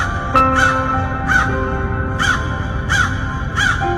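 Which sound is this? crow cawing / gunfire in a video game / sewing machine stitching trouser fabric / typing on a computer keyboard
crow cawing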